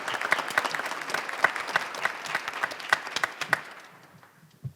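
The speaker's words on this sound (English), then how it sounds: "Round of applause for Faith Jones, please." Warm applause from a concert audience at a holiday jazz concert at a university music center, dense steady clapping that fades away over several seconds.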